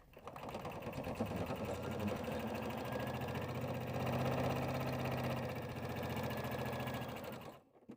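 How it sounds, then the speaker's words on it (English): A sewing machine runs a steady basting stitch through layered fabric for a bag, a continuous rapid mechanical whir at close range that stops abruptly near the end. "I'm just going to put a base stitch in just to hold everything nice and secure"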